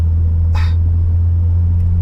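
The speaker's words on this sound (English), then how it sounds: "The exhaust being relatively obnoxious puts a massive smile on my face." Low, steady car exhaust rumble from a hard-driven car with a loud, obnoxious aftermarket exhaust, droning close and continuous across the clip with a brief higher burst partway through.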